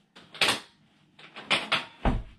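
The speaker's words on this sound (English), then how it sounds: "So when you hear two clicks, that's when you're able to lay it flat." A handful of sharp mechanical clicks and clunks from a Mainstays memory foam futon frame being laid flat, close by, in two quick bursts with a heavier thud at the end.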